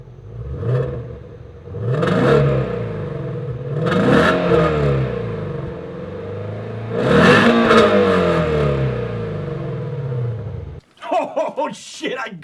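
A Shelby GT350 Mustang (S550) revs its exhaust close by in four sharp throttle blips that rise and fall, each with a deep roar, before a short burst of choppy, clattering noise at the end.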